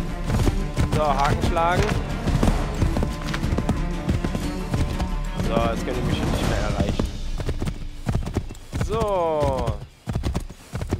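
A horse gallops in the video game Assassin's Creed III with a steady clip-clop of hooves, heard with game sounds and over someone talking throughout.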